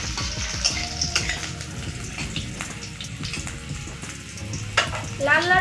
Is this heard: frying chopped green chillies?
yes